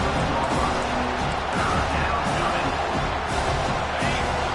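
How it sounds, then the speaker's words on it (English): A football video game crowd roars steadily in a dense, continuous wash of cheering that never lets up, loud and enveloping like a packed stadium crowd urging on the defense. "The roar of the crowd trying to fuel this defense to keep them pinned in their own end"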